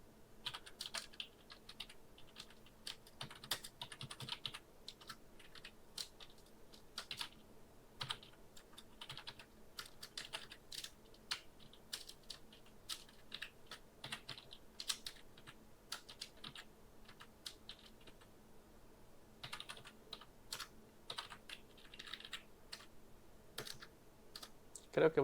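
Fingers type rapidly on a computer keyboard that is starting to fail, producing a steady, irregular stream of close, quiet clicks and key taps with short pauses between bursts.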